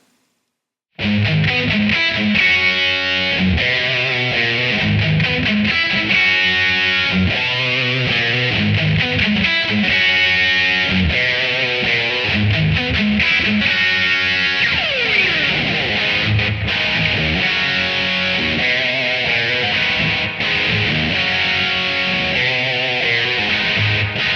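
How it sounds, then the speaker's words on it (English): Distorted electric guitar playing the verse and chorus, loud and continuous with chugging riffs and a brief sliding bend midway, no voice. "So let me play a demo of the 2nd verse and chorus right now."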